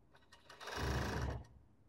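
A sewing machine finishes a seam on a long-sleeve robe, a brief, fairly quiet whir that swells and fades within about a second, with faint mechanical clicks around it.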